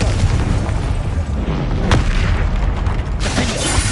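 Confringo fire-blast spell going off in Hogwarts Legacy, a loud, heavy booming explosion with a sharp crack near the middle and another burst toward the end, over dense rumbling combat noise.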